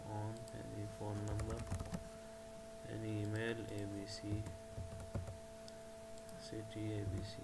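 Fingers tap on a computer keyboard while entering data into an Excel entry form, giving soft, quick clicks in short runs beneath a voice.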